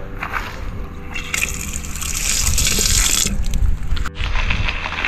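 Spring drinking water gushes and splashes steadily from a spout, a loud continuous liquid rush with bright splattering close by.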